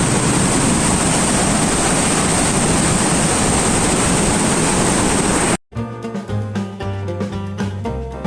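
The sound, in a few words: flood water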